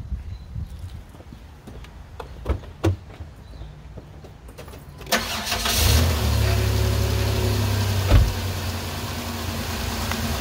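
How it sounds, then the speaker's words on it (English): A car engine is started for an alternator charging test with a battery tester. A few quiet clicks and handling noises come first, then the engine cranks, catches and settles into a steady, loud idle. "So it says step one, start the vehicle."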